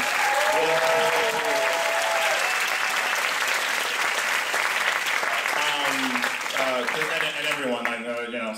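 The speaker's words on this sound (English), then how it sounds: "Give her a round of applause." Loud, sustained audience applause fills a medical education event celebration, dense clapping running throughout with a voice speaking over it near the end.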